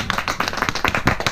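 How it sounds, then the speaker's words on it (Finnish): A small group claps for the winner of an ice fishing competition, a brief close burst of quick uneven hand claps. "Ja voittajalle aplodit"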